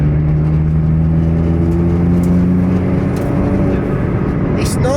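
Ford ST with a loud side-exit exhaust heard from inside with the windows up, a steady droning engine note that swells briefly as revs rise, then settles into a constant hum.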